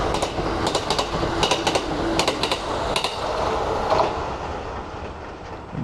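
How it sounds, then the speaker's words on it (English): A Kintetsu express train on the rural Suzuka Line runs through a station platform without stopping, a steady rolling roar with repeated sharp clacks of wheels over rail joints, close and loud throughout. "Here's an express, not stopping here at all."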